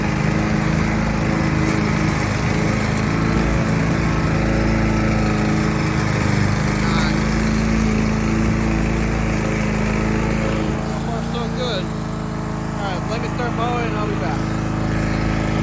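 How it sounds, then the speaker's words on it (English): A DeWalt 196cc commercial-grade gas push lawn mower engine drones steadily and loudly throughout, its pitch wavering slightly as it is pushed along nearby. "let's start mowing"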